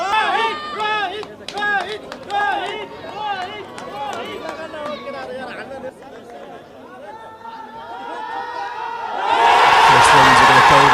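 A cricket crowd at a Nepal vs UAE T20 semi-final erupts into a loud, dense roar and cheer near the end, after a stretch of close commentary voices talking over distant crowd murmur.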